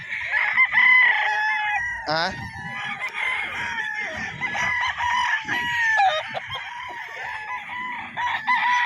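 A White Kelso yellow-legged stag crows on a farm, with several drawn-out, close crowing calls overlapping other roosters' calls and clucks, plus a few sharp knocks and light background noise.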